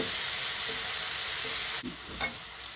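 Shrimp sizzling steadily as it's sautéed in a pan with pepper and chicken powder, a continuous frying hiss with a couple of soft stirring scrapes near the end.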